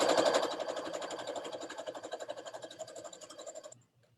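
A sewing machine stitching a quarter-inch quilt seam, its needle running in a fast, even mechanical patter up close before stopping abruptly near the end.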